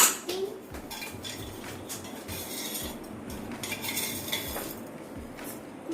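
A metal spoon scrapes and clinks against a pan as tea leaves and sugar are added for making tea, giving close, busy metallic taps and rattles over a steady background hiss.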